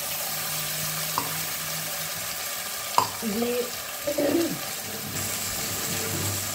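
Ginger, garlic and chili paste fries with browned onions for a katla fish curry, a steady sizzling hiss with a couple of sharp utensil knocks and brief stirring scrapes, no talking.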